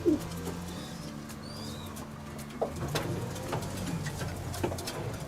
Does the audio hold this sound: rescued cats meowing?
no